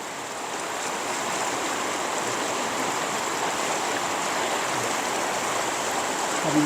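Water tumbles over the rapids at Kaeng Pla Kaeo in Ban Bung Khiao, a steady, close, full-bodied rushing roar that holds level throughout, with no voices.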